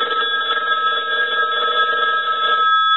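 A converted American wood wall telephone rings at its bell box, a loud, continuous metallic bell trill that holds steady and close for about three seconds with no voices.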